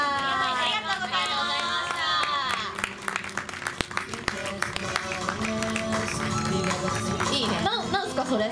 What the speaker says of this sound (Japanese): それでは拍手でお送りください。